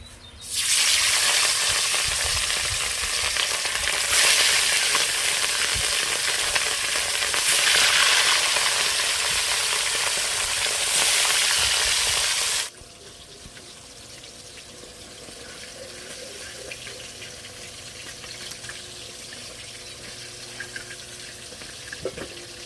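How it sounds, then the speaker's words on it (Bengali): Food sizzles loudly in hot oil in a home kitchen pan for about twelve seconds, then the frying stops and a quieter background of faint clinks and low hum remains. "সমস্ত কিছু ভেজে নেব, ভাজাভুজিগুলো।"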